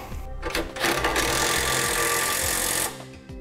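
A power tool drives down a fastener securing a Blue Ox base plate on a 2014 Ford Fiesta, a loud, steady whirring run lasting a couple of seconds before it stops, with brief clicks of the tool at the start.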